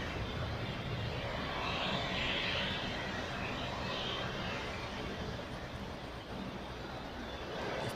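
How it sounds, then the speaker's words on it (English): British Airways jet taking off from Zurich Airport bound for London Heathrow, a sustained, dense engine roar heard from a nearby car park, steady and loud throughout with no voices. "British Airways going out to London Heathrow"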